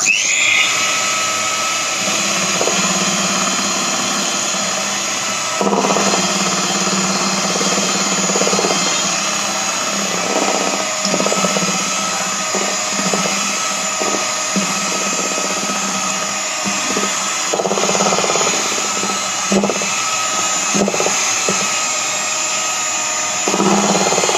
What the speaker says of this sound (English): I've added half, and I'll beat it again.